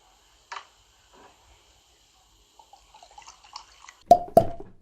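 A fresh bottle of New Riff Kentucky Straight Bourbon Whiskey is opened in a quiet room: faint small clicks and rustles lead up to two sharp, close cork pops near the end.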